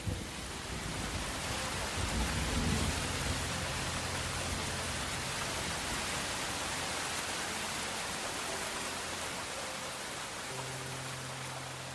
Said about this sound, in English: Unfortunately, heavy rain began.